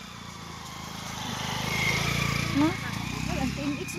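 A Honda TMX motorcycle engine drones steadily as it climbs a hill on a farm, a low buzzing hum that rises slightly, with people talking over it.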